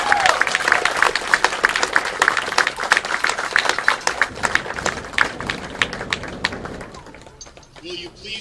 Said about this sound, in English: Let us begin our ceremony with a round of applause for our graduates.